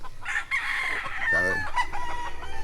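A rooster crows once amid a lively farmyard, with hens clucking and other birds calling around it.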